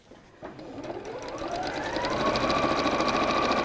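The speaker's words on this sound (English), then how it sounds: "I'm going to sew up to the edge" A sewing machine stitches a bag seam, its needle tapping in a fast even rhythm that gradually speeds up and grows louder, close by.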